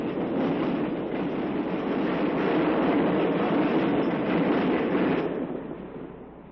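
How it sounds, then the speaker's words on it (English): A westbound Milwaukee Road Afternoon Hiawatha diesel passenger train hauling mail and express cars storms through snow at Rondout, Illinois, a loud, steady rushing roar that stays close for several seconds and then fades as it passes. "the westbound Afternoon Hiawatha, with much mail and express, storms up a blizzard of snow as it hurries through Rondout"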